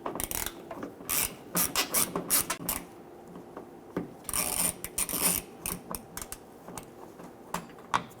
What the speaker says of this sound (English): Using a T30 Torx bit, loosen and remove these two screws.